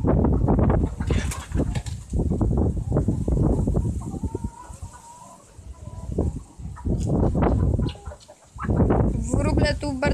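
Laying hens in a coop cluck in busy, close bursts that rise and fall, with short quieter gaps between clusters of calls.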